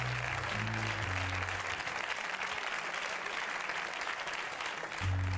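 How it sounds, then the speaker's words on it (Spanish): An audience gives a loud round of applause, sustained and even throughout, with brief low speaking voices at the start and end. "Un fuerte aplauso."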